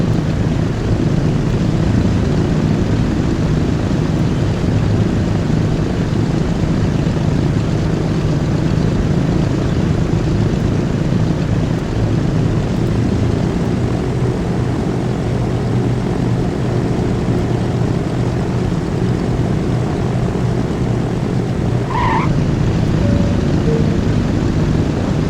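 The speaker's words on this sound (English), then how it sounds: "Got two aircrafts here. There's the airplane." A propeller airplane in the transport simulator game Transport Fever 2 drones steadily and loudly throughout, a constant engine hum with no talk.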